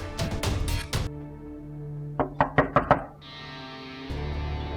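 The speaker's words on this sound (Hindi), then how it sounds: "जीनिया, दरवाजा खोलो।" Knocks on a door in a Pakistani TV drama, an opening burst of heavy thuds followed by a quicker series of four or five sharper raps, close and loud over a quiet room tone.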